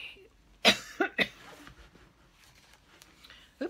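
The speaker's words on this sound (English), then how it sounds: "I'm coughing." A person coughs in a quiet room, a few sharp close bursts in quick succession, followed by a fainter cough a few seconds later.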